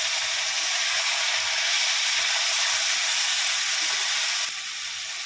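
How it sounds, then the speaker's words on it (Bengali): Ginger, chili and tomato spice paste frying in a pan for a rohu fish curry, a steady, loud hiss and sizzle holding even throughout, easing slightly near the end. "মশলাটা কষিয়ে নেব।"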